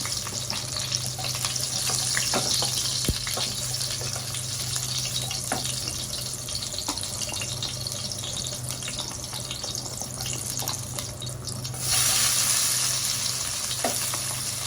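Chopped onions frying in tempered oil for a Bengali murighonto, a steady close sizzle that runs throughout with scattered small pops, swelling louder and brighter near the end.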